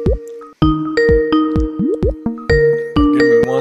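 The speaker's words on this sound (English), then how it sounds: "I apologize if you can hear us ringing him in." An online call ringing tone repeats as a series of bright, clean electronic pings and short chimes with falling pitch sweeps, loud and close, in a steady stuttering rhythm.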